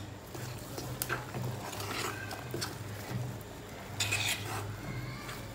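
Homemade tutti frutti being stirred into a wheat banana cake batter, with steady scraping and clinking of a spoon against a bowl, fairly close and continuous, with a low hum underneath.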